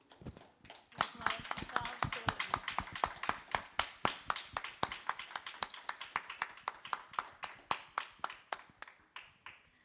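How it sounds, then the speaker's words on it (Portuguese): An audience at a young writers' literary festival claps in unison, a long run of crisp, regular hand claps that quickens and then tapers off over about ten seconds. "eu vou puxar aqui uma salva de palmas cheia de carinho"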